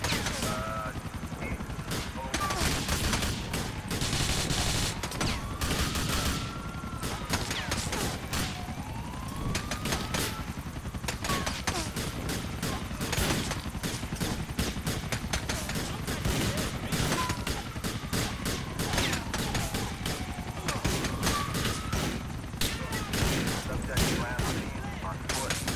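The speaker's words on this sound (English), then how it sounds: "these are some really precise Molotov Coctail shots" Dense, continuous gunfire in GTA 4 while sniping Molotov cocktails: rapid overlapping shots, police sirens wailing in the background, and a chaotic street battle, loud throughout.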